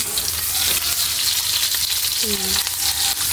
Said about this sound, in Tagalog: So, gisa tayo ng sibuyas.